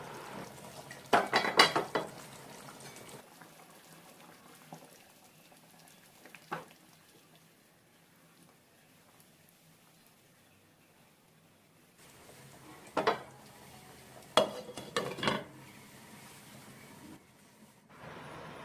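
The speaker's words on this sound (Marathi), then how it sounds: "अधूनमधून कालवण हलवून घ्या" Surmai fish curry in the Agri style being stirred in a cooking pot, with a few scattered bursts of metal scraping and clinking spaced apart over otherwise quiet background noise.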